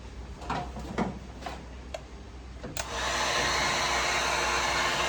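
A heat gun blows hot air onto a Holden VH SL/E Commodore part during a restoration. Its steady, loud whoosh starts partway through and keeps going, and a few clicks and knocks come just before it.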